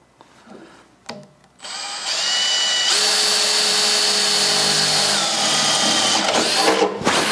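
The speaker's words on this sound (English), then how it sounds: "And now we drill the second hole." A power drill bores a bolt hole on a David Brown 990 tractor, whirring steadily for several seconds, its motor holding a high whine before winding down, after a few short knocks at the start.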